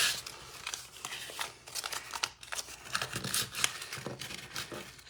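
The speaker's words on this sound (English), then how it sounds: "We're just going to go through here and rub." A tool rubbed firmly across paper during Stampin' Up! card making, a coarse, papery scraping that comes in repeated crinkly strokes, close and moderately loud, with no talking.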